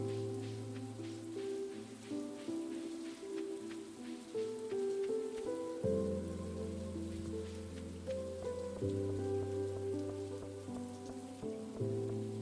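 Steady rain falling in the farming game Stardew Valley, a soft continuous patter running throughout beneath melodic background game music, with no talking.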